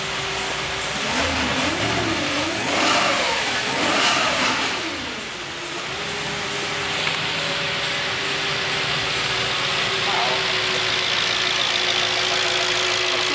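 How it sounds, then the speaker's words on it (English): An Audi S4 engine revs up several times in quick rising and falling sweeps over the first six seconds, then settles into a steady idle, loud and close with no talking. "Rev it up."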